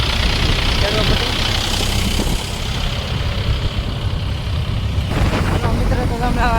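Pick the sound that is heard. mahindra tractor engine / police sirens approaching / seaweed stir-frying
mahindra tractor engine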